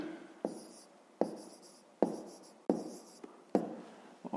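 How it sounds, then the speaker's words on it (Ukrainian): Pen writing by hand in a school maths notebook, close and quiet: short scratchy strokes in bursts separated by brief pauses, with no voice. "а тепер записуємо"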